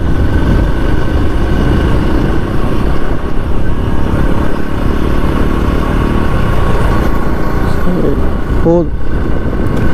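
A 2025 TVS Sport 110 motorcycle with an OBD 2B E20 engine being ridden on a test ride: a steady, close, loud engine drone throughout, with wind noise and someone talking over it.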